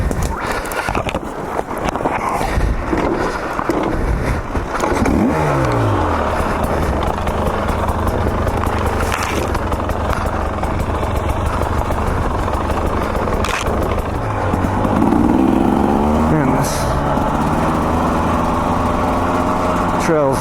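A KTM 300 XC-W two-stroke dirt bike runs steadily on a steep, loose forest trail of rain-dampened dirt, its engine close and loud throughout with revving pitch swings and a brief surge near the end.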